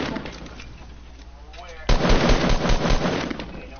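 Automatic weapon fire in the video game Fortnite: a loud, dense rattling burst kicks in abruptly and runs for about two seconds, following quieter gameplay ambience and some faint shots.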